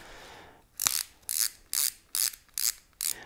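A BOA dial on a Spot Hogg WiseGuy rigid release strap ratchets in six crisp, evenly spaced bursts of clicking, close and fairly loud with no talk.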